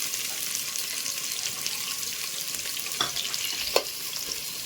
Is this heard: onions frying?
yes